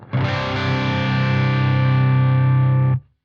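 A single heavily distorted electric guitar chord rings out loud and steady through an amp cabinet for about three seconds, then cuts off abruptly.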